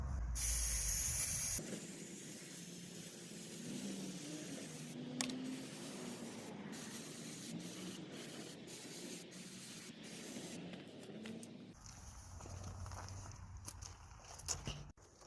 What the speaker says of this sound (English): we're gonna clean it with the brake disc cleaner